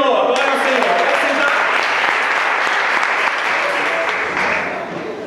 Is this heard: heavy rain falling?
no